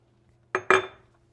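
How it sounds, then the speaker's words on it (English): Two quick metallic clinks of a spoon against a pan as semi-sweet chocolate chips are stirred into hot fudge, close and fairly loud, then fading quietly. "we're just incorporating that chocolate into this mixture"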